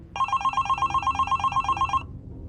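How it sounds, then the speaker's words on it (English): A hotel room telephone rings in a rapid electronic trill, a quick string of bright, even pulses lasting about two seconds before stopping, set against a faint background hum. "when the phone rang"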